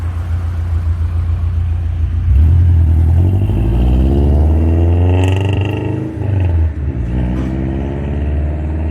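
A Dodge D50 minitruck engine with staggered intake runners idles and revs nearby, a steady deep rumble through a loud exhaust that swells into a throatier rev and then settles back down.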